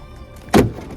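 A frozen car door is tugged and gives a single short, loud thump or clunk partway through, set against a quiet outdoor winter background.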